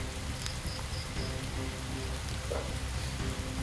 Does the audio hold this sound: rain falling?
yes